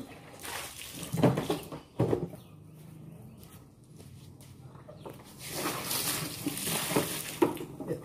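Water being splashed and scrubbed across the floor of a quarantine center, wet sloshing bursts rising and falling over several seconds with a louder stretch of washing near the end, no talk.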